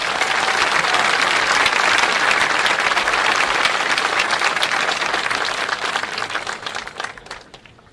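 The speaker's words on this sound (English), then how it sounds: "We ask that you hold your applause so all the families can hear the names of their graduates." Audience applause fills a graduation ceremony hall, dense and loud clapping holding steady for several seconds before gradually thinning out toward the end.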